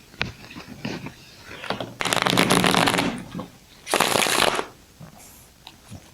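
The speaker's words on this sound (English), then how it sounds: "I don't need to shuffle much, just 2 times." Tarot cards are riffle-shuffled twice in quick rustling bursts, with soft handling noises between and after.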